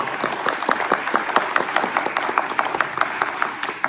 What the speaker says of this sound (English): Can we give a round of applause for the candidates?